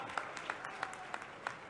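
Crowd at a political rally in Sheopur applauding, faint, distant scattered claps in a soft, uneven rhythm over a low background hum.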